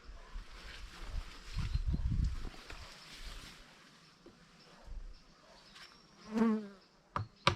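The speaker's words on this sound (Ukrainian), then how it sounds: "бджоли одразу вилітають з верхніх льотків і починають жалити" Honeybees buzzing close by around a hive in short, rising bursts, with a few dull knocks and handling thumps around them.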